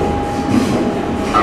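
Tram in Rome rolling and curving through the city, loud close interior rumble with rail clatter and a faint squeal, steady and continuous with no talk.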